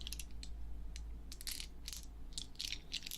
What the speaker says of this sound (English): here is the sound of rock candy.